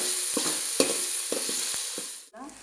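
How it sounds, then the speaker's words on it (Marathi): Ginger paste is stirred into mutton curry in a hot pan, a constant sizzle broken by a handful of sharp spoon scrapes at an uneven pace. "हे पण आपल्याला चांगलं मिक्स करून घ्यायचं आहे."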